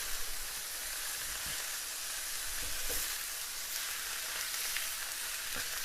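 Garlic sizzles steadily in a stainless steel pan, a close, even frying hiss with faint occasional pops and stirring knocks, heard alone.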